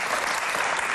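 Dense, steady applause from a television game show studio audience for a contestant, loud and even across the whole short burst with no pauses.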